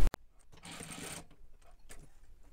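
A sewing machine makes a short, steady whirring run while stitching a belt loop onto linen baggy pants, followed by faint handling sounds.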